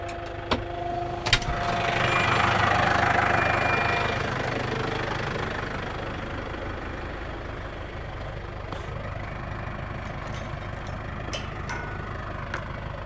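A farm tractor hitched to a Maschio implement idles with a low, knocking diesel chug that swells briefly early on, then settles into a steady mid-level rumble, with a few faint clicks and no voices.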